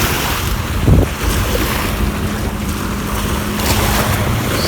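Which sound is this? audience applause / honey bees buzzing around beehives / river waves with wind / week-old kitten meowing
river waves with wind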